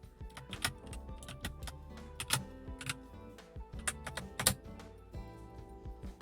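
Rapid typing on a computer keyboard, sharp close key clicks in an uneven, steady stream, with no talking.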